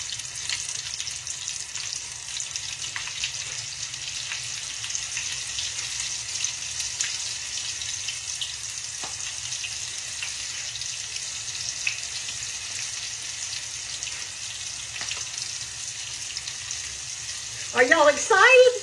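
Battered onion rings or catfish frying gently in hot oil on a stovetop, a soft steady sizzle and crackle throughout, brightening into louder bubbling near the end.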